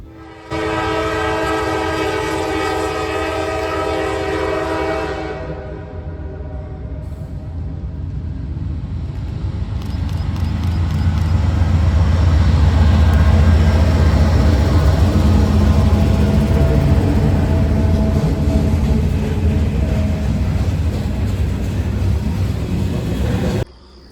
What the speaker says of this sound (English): we have Norfolk Southern 812 coming out of Elmore, West Virginia, heading for Norfolk